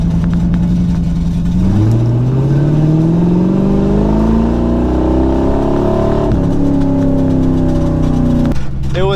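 A Subaru burnout race car's engine revs hard and steadily, the loud drone climbing in pitch for several seconds, dropping briefly, then rising again, close and continuous with no talk.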